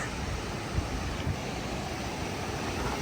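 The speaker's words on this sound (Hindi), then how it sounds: "कितना तेज़ पानी आ रहा है और दरिया कुनहार में जा रहा है इसका पानी" A fast mountain stream of glacier water near Naran rushes toward the Kunhar River as a steady, loud roar of churning water with some wind buffeting.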